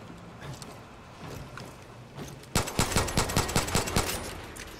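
Rapid gunfire aimed at a pipe in Far Cry New Dawn: a few scattered shots, then a loud burst of quick rhythmic rounds in close succession, with no talk over it.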